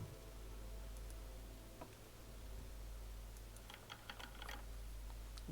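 Quiet clicks and soft ticking while picking a lock in the video game Morrowind, a sparse run of small taps, faint over a low hum.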